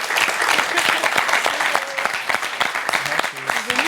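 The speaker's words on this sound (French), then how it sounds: "Ça s'applaudit." An audience at a televised university quiz contest claps loudly and continuously, a dense steady applause with occasional cheers and voices mixed in.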